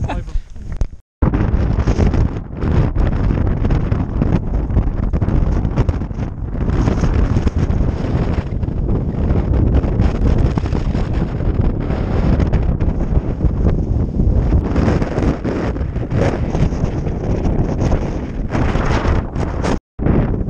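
Loud, constant wind buffeting the microphone in the mountains of Connemara, a heavy roaring rumble that barely lets up, with a brief drop-out near the start.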